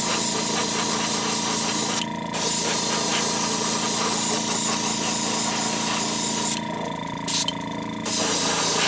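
An airbrush sprays opaque white Createx base coat onto a fishing lure in a paint room, a loud continuous hiss broken by a brief pause and then two short gaps near the end.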